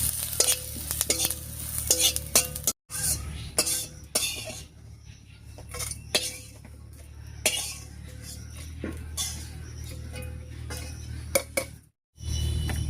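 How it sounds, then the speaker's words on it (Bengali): Dried red chillies with whole cumin and coriander seeds frying in hot fish oil in a kadai, a steady sizzle broken by repeated stirring scrapes and metal clinks, close and fairly loud with brief pauses. "তেলের উপরে দিয়ে দিচ্ছি কয়েকটা শুকনো লঙ্কা, দিয়ে দিচ্ছি 1 চামচ গোটা জিরা আর 1 চামচ গোটা ধনিয়া। একসঙ্গে করে ভেজে নামিয়ে নেব।"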